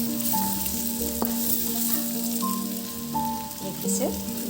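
Goat mutton for a home-made curry fries in a pan with a steady, crackling sizzle and occasional stirring scrapes, over faint background music.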